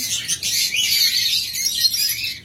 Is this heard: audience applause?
no